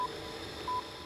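A satellite phone in Antarctica gives short electronic dialing tones, a brief beep at the start and a longer one near the end over a faint hissing line, with no voices.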